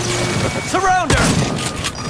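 Gunfire in Cyberpunk 2077 during a firefight, a brief flurry of shots and impacts in about two seconds, close and fairly loud amid chaotic combat noise with voices in the background.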